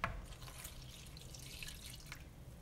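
Lukewarm water pouring and dripping into honey for homemade bread dough, faint and close, with a soft splashy trickle and a few small drips.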